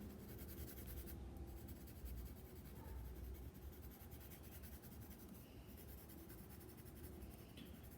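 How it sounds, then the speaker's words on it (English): A pencil shades a shadow on paper in a still-life drawing, a soft continuous scratchy rubbing up close, steady and quiet throughout with no talking. "Again, I'm just gonna go in with my pencil."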